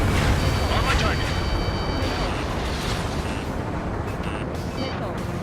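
Missiles fire and explode in the Ace Combat 7 jet combat game, a heavy rumbling blast and burst at the start that fades into sustained roar, with voices speaking over it.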